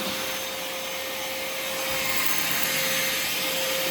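A Vacmaster 2.5 gallon, 2 horsepower shop vacuum runs steadily up close with a loud, hissing whine and a constant tone, the airflow swelling slightly as it picks up a mess.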